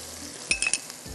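Metal clinks against a pan while ginger garlic paste and garam masala fry. A quick cluster of three or four bright taps rings over a faint sizzle, all close and fairly quiet.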